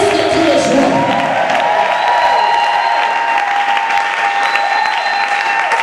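A church congregation claps and cheers loudly and continuously, a full, roaring wave of applause with whoops and a sustained tonal hum running underneath.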